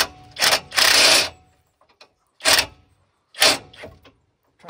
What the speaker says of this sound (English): I'm trying to keep my fingers and put a wrench on it.